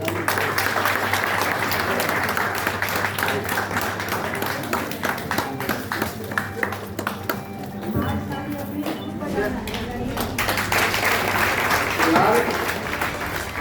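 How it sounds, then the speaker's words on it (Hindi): Sustained applause from an audience at an event introducing state teams, a continuous crowd clapping that runs the whole stretch, with a voice speaking over it. "तालियां बजाते रहिए।"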